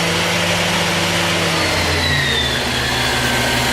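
Haas TL-25 CNC lathe spindle, a 2005 machine with a 30-inch swing and 10-inch chuck, running at speed in high gear: a loud, steady mechanical hum with a faint rising whine, continuous throughout.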